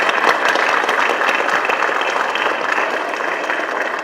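A crowd at a joint campaign launch rally for a general election gives loud, sustained applause. The dense clapping stays even and fills the hall for about four seconds.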